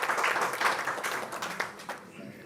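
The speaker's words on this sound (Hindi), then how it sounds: "आप जोरदार तालियां बजा करके उनका स्वागत करें" An audience claps loudly to welcome actress Kangana Ranaut as chief guest at a birthday event for PM Narendra Modi, a dense burst of applause that gradually thins and softens toward the close.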